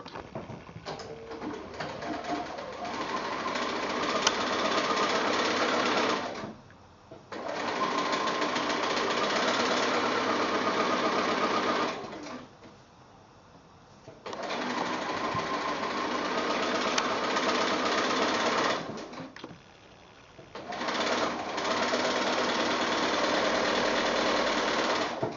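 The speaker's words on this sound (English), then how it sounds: "because I've done that second line, I'm just going to sew along that as well" A sewing machine stitching quilt blocks runs in long steady bursts of rapid whirring, close and loud, with three short pauses between runs and no talking.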